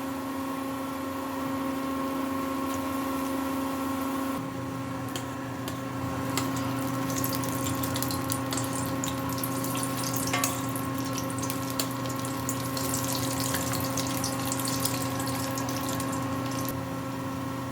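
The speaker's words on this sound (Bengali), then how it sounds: "এক করে গরম তেলের মধ্যে চপগুলো ছেড়ে দেবো।" Soybean fritters sizzle and crackle steadily in hot oil in a home kitchen, a close, continuous frying hiss that grows busier as more chops go into the pan, with a faint steady hum beneath.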